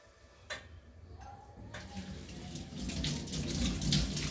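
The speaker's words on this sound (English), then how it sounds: "You see I'm washing everything." Running tap water pours steadily into a kitchen sink as ingredients for spaghetti and meatballs are washed, a few light clicks early on, then the flow grows fuller and louder toward the end.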